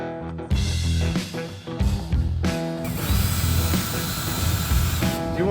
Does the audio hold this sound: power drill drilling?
yes